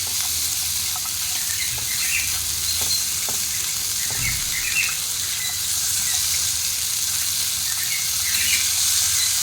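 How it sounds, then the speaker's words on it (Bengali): Ingredients for white sauce pasta frying in a pan, a steady bright sizzle with occasional soft stirring taps and small pops, close and continuous throughout with no talking. "সবগুলোকে খুব ভালোভাবে ভেজে নেব।"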